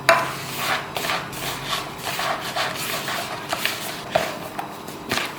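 Hands knead dough for rasmalai with a steady run of soft, close rubbing and pressing sounds, broken by a few sharper slaps and thumps.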